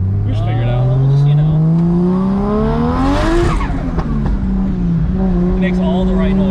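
A Toyota JZX100 engine drones and revs through the gears while driving, its pitch climbing steadily and then easing off, with people talking inside the car over it.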